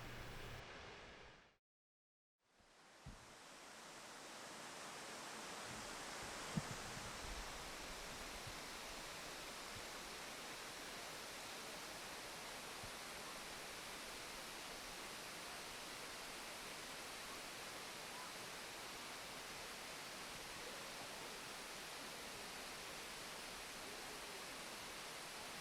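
Roaring water of Webster Falls in Hamilton, a steady broadband rush that fills the scene after a brief silent gap near the start, loud and continuous with no voices.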